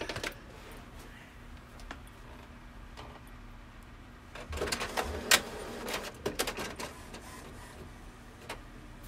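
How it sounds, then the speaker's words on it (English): A printer quietly printing an image for a shirt transfer, with mechanical whirring and clicking bursts that pick up midway, close by and otherwise undisturbed. "And go ahead and print that."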